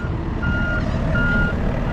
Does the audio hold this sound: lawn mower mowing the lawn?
no